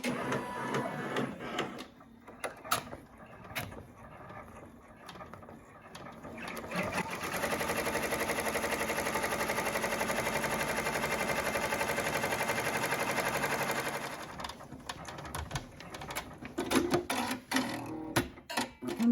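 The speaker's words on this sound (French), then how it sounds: "nous allons broder la première étape qui sert à marquer le positionnement du tissu éponge" Home embroidery machine stitching the first placement outline onto fabric held in a hoop, a steady rapid mechanical whirr for several seconds, with quieter clicks and handling noises before and after.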